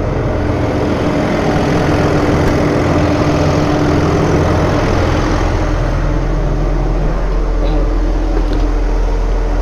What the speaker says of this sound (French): C'est une turbine qui marche à l'hydraulique et dans le tracteur